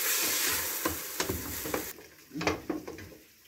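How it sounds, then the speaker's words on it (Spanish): Onions and tomato stirred as they fry in a pan, sizzling under quick scraping strokes of a spoon, close and fairly quiet, with a few distinct stirring scrapes. "esto lo vamos a mover para que hasta que nuestras cebollas se vayan cocinando"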